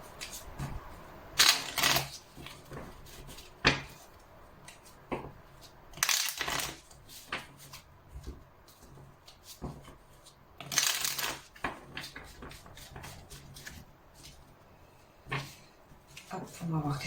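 Oracle cards handled and shuffled by hand, several close, papery bursts of riffling and slapping spread across the stretch, with someone speaking quietly between them.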